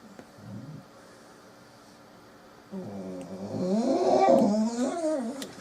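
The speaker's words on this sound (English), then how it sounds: "Sorry, that's my dog." A dog indoors lets out a few nearby whining, groaning vocalizations, rising and falling in pitch, with quiet room sound between them.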